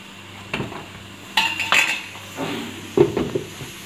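Bhatura dough placed into a frying pan while cooking chole bhature, with metallic clinks and clatter of utensils against the pan in several bursts over a steady background hiss.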